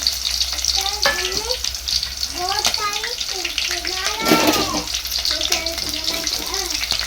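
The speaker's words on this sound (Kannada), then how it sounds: "ಈಗೇನಿದ್ರ ಉಳ್ಳಾಗಡ್ಡಿ ಹಾಕೊಳತ್ತೀವಿ" Chopped onions fry in hot oil in a pan as the base for a home-style chicken curry, giving a steady, close hiss and sizzle. Someone talks over the cooking throughout.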